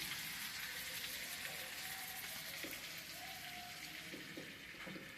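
Chicken pieces hiss and sizzle as they fry in a hot pan, a steady close crackling wash with a few soft clinks of a utensil, no voices.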